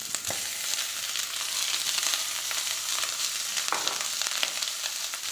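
Three tomatoes fry in a pan with a loud, steady sizzle, broken by occasional scraping stirs and small spatters. No one speaks.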